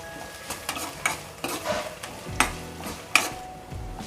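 Intermittent scraping and clinking of a spoon stirring curry leaves and spices in a pan, with a few sharper metallic taps over a soft background sizzle.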